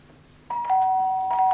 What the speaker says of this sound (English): Every time the doorbell rings, it's another window cleaner.